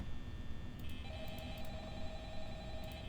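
A phone in the Five Nights at Freddy's video game rings with faint repeated electronic tones over a low background hum, and no one speaks.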